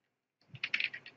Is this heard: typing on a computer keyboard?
yes